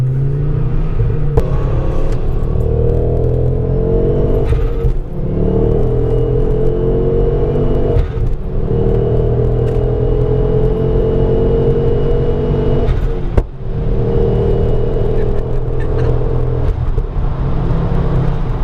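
A remapped car tuned by Performance Vehicle Engineering accelerates hard, its engine a loud, steady droning rumble from inside the cabin with rising tones as it pulls through gears, a couple of brief dips marking shifts.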